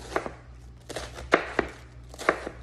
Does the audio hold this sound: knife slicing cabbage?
yes